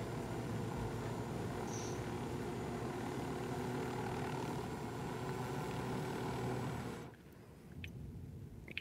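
Aircraft engine from the video game Ghost Recon Wildlands climbing to altitude, a steady loud propeller drone throughout that cuts off abruptly near the end, leaving faint wind and brief clicks.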